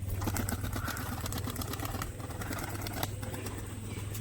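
A tethered pigeon during Bengali pigeon-flying practice, with soft bird sounds and faint fluttering set against steady outdoor background noise and a low engine hum throughout.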